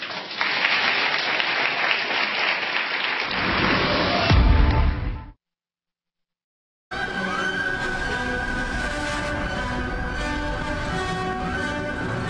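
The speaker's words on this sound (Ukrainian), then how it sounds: "спасибо за аплодисменты" A studio audience claps for several seconds on a Russian political TV talk show, broad dense applause that swells and cuts off abruptly, followed after a gap by music.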